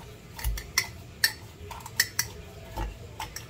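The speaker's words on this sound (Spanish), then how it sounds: "Nos aseguramos de machacar todo bien para que todo se mezcle bien" Mint, lime and brown sugar being muddled in a glass for a homemade mojito, heard as a series of sharp, separate clinks and knocks at an uneven pace, close up and fairly quiet, with no voices.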